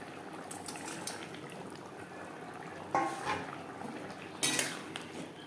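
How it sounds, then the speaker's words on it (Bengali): Katla fish curry gravy in a pot comes up toward a boil, a quiet low bubbling hiss with two brief louder bursts of clinking and liquid splashing near the end, close but soft. "ফুটে ওঠা পর্যন্ত অপেক্ষা করব।"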